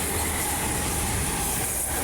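A train roars through Gosnells station close by at full speed, a loud continuous rushing and rumbling with hissing wind noise throughout.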